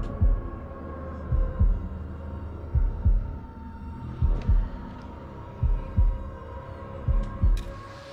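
Heartbeat sound effect from the House of Ashes video game during a tense sequence: a steady run of deep, thudding double beats repeating about once a second over a low droning hum, with no talking.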